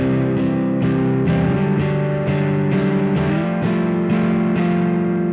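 Electric guitar played through a ProCo Rat distortion pedal set for mild overdrive gives gritty, lightly crunchy chords, struck in a steady rhythm of repeated strums with each attack ringing into the next.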